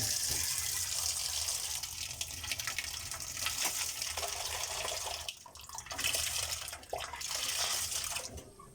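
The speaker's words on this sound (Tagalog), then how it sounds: "So, lagay na lang natin ng maliit lang na tubig." A little water pours into a pan for pancit canton, a steady close splashing stream that runs for several seconds with a brief dip partway through.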